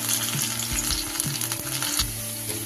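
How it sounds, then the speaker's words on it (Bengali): Pieces of taro fry in hot oil with a steady, dense crackling sizzle. A utensil knocks and stirs now and then, the sound is close, and no one speaks. "এই তেলে আমি এক এক করে সবজিগুলোকে ভেজে নেব। প্রথমে দিয়ে দেব আমি গাঁটি কচুগুলো।"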